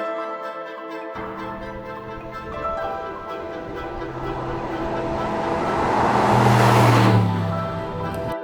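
A 2025 Aston Martin Vantage drives steadily, its engine and road noise continuous and building to a louder, deeper swell near the end, with no talk over it.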